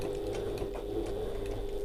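Sewing machine stitching the corner of an evening bag, a fast steady mechanical whir with rapid ticking needle strokes, close and continuous.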